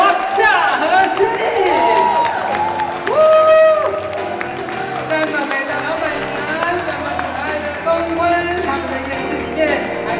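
Audience applause and cheering for nominated game and reality show hosts at a Sanlih TV Golden Bell Awards nominee gathering, a loud burst of clapping with crowd chatter and a voice talking over it, fading slightly toward the end.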